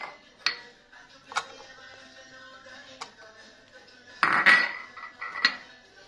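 Ingredients are added to cottage cheese in a dish, with light clinks and taps of a spoon against the bowl, a few scattered knocks and a brief louder scraping clatter near the end, quiet overall.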